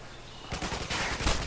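Suppressed machine gun fire in Modern Warfare 2, a rapid run of muffled, close shots that begins partway through and holds steady to the end with no talking.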